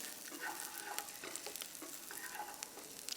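Pirandai (veldt grape stems) sizzle and crackle in a hot pan as they are sautéed for chutney, a steady close frying hiss with small pops and scrapes, no voices.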